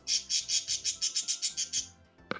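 A pet bird chirps at a steady rapid pace, about a dozen bright, shrill, evenly spaced calls close by, then a short pause and a faint sound at the end. No one speaks.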